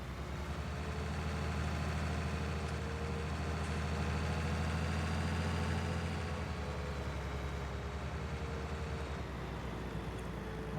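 A tractor engine idles in the Hof Bergmann farming video game, a steady low mechanical drone that holds evenly throughout with no voices over it.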